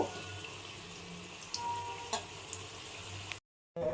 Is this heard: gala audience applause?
no